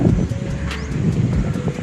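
Strong wind roars steadily across the microphone at an open pavilion on a farm in Naic, Cavite, a dense low rumble with gusty buffeting and no voices.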